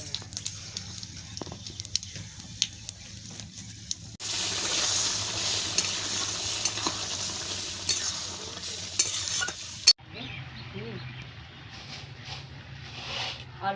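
Whole spices tempering in hot oil for a banana flower dish sizzle into a loud, hissing fry after a quiet stretch, with stirring scrapes and a sharp clatter before the sizzle settles lower.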